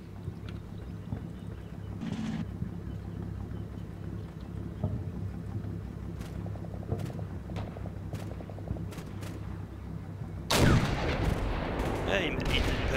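A tank cannon fires in a video game featuring BM Oplot tanks: one sharp, loud blast near the end cuts through a steady engine rumble and scattered distant battle noises.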